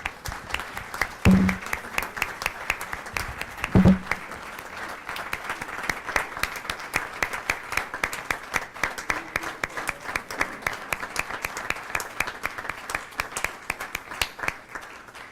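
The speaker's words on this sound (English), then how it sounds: "Please give him a round of applause." A city council meeting audience applauds a Chris Whitlow Day proclamation by the Mayor of Midwest City: steady, dense clapping fills the room for about fifteen seconds at an even loudness, with no one speaking over it.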